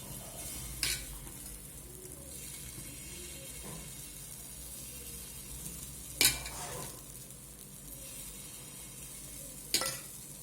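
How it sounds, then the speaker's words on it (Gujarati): Small savory pudla pancakes made from Bal Shakti flour cook on a lightly oiled pan, giving a soft steady sizzle throughout with a few brief louder scrapes or taps of a utensil. "તો એમાં આપણે તેલ થોડું ચોપડી દીધું છે અને આ રીતે નાના નાના પુલ્લા ઉતરશું"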